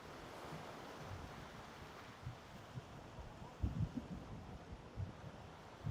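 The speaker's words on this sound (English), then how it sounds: "enjoying the waves." Ocean waves wash faintly in the distance with soft wind noise, a low steady surf hiss broken by a few gentle surges.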